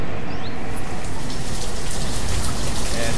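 Steady, dense rainfall from the 3D weather effects of the city-building game Banished, a constant hiss of falling rain spread evenly across the whole stretch with no voices.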